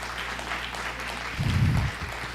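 An audience applauds a guest speaker at a Chinmaya Mission teachers' gathering, a brief patter of clapping over a steady hum of room noise.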